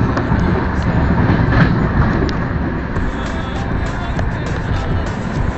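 Steady, loud rumble and rolling noise from a train standing or moving alongside a sleeper coach at an Indian railway station, on a journey to Assam. It continues without a break throughout, with no clear speech.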